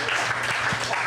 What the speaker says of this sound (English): let's get a big round of applause for your bartender